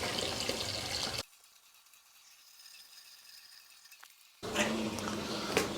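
Water pours into a bucket while an aquarium sump is drained, a loud rushing fill that stops for a few seconds, then starts again just as strongly.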